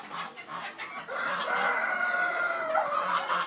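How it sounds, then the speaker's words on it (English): A Polish rooster crows loudly and close by on a chicken farm in a long, drawn-out call, with some clucking before it. "That's a Polish rooster right there."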